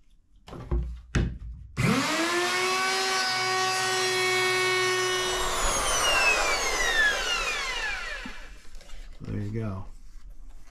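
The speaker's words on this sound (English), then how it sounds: "So basically we're just going to take a router and put some radiuses on every corner on this console." A wood router fitted with a round-over bit cutting a radius along the edges of a wooden boat console, a loud whining spin-up that holds a steady high drone for several seconds, then winds down, with brief voices around it.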